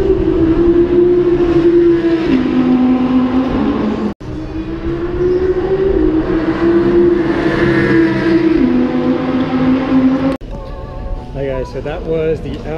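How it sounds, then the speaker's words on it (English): An Audi R8 driving off at a race track, a loud sustained engine drone that holds steady, dips, then cuts out near the end while a voice talks over it. "So that was the Audi R8, driving it up."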